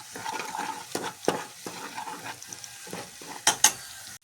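Cumin and coriander sautéing in a pan, a soft, steady sizzle broken by stirring scrapes, with a few sharp utensil clinks near the end.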